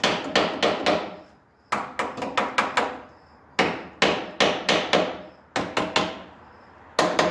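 Hardwood furniture joinery pieces being tapped together, sharp wooden knocks in quick bursts of four to six separated by short pauses, close and clear with no talk.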